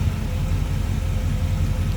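The 350 V8 of a 1964 Chevrolet El Camino Custom with an Edelbrock intake idles close by, a steady, throbbing low rumble with no talk.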